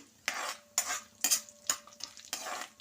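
Chana dal, urad dal, mustard seeds and cumin sizzle in hot oil for a tempering, stirred in about six close, sharp bursts of crackle and scraping with brief lulls between, no talking.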